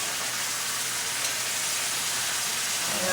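Marinade sizzles in a hot pan, a dense, even hiss of frying that stays loud and close throughout with no voices.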